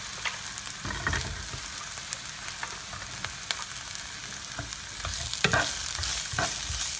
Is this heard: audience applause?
no